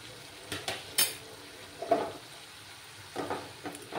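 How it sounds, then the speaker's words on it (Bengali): Fried potatoes tipped into a pan of Kashmiri chilli spice mix for a paneer and cauliflower curry, giving a few scattered utensil clinks and stirring scrapes against a quiet background, with no talk. "এবার আমি ভাজা আলুগুলো দিয়ে দিচ্ছি।"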